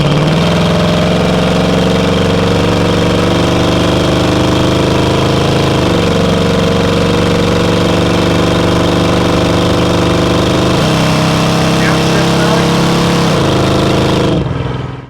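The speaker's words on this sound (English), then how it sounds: "On your exhaust, you have a set of block headers, dual exhaust, aftermarket mufflers, full tailpipes." 1966 Ford F100 short-wheelbase pickup with block headers, dual exhaust and aftermarket mufflers, its engine pulling hard while driving, loud and close, with rising revs through several gear changes before cutting off at the end.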